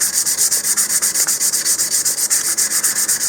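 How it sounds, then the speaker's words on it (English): A model rocket nose cone is hand-sanded with steady back-and-forth strokes, a close, loud, rhythmic scratchy rubbing of about seven strokes per second, heard alone. "sanding the nose cone like this will allow the paint to adhere better"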